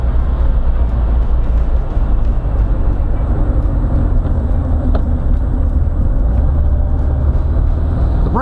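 A 1972 VW Karmann Ghia's air-cooled engine idles after carburetor jet cleaning. Its loud, continuous low rumble stays steady throughout with no voices.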